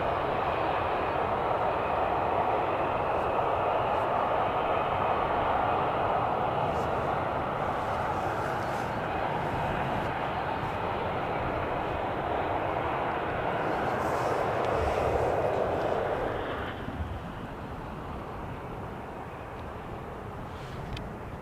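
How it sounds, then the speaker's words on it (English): KLM Boeing 737-700 arriving on runway 18R at Amsterdam Schiphol from Brussels, a broad steady jet roar held loud for most of the pass before dropping off sharply near the end. "Here the little KLM 737-700 coming in from Brussels"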